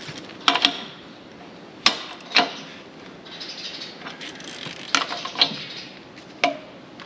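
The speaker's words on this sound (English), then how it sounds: "I've just given these bolts here a nip up" A wrench clicks and clanks on metal as bolts are nipped up on the track of a John Deere 8370RT tractor, with sharp scattered ratcheting strikes against a quiet workshop background.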